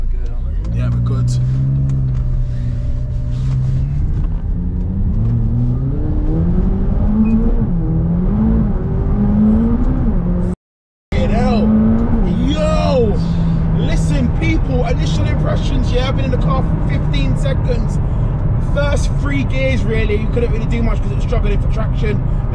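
An Audi RS3 running on race fuel accelerates hard on a damp road, its engine note rising steadily through the gears with loud, continuous in-cabin roar and a brief cut midway.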